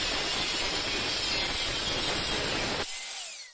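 A 25 by 25 mm metal bar being cut with a saw: a loud, continuous rasping cut that runs steadily for about three seconds, then stops abruptly, leaving a faint ringing tail.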